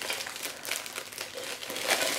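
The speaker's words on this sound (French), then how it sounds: "Donc je vais défaire le papier." Paper crinkles and crackles close by as it is unwrapped, irregular rustling bursts over a couple of seconds with no talking.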